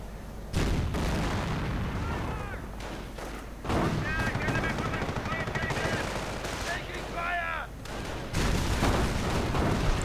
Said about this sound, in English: instead the riflemen are the targets of artillery retribution.